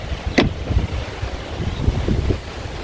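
Strong wind on a beach by the water buffets the microphone with steady rumbling gusts, close and loud. Faint surf sounds come through underneath.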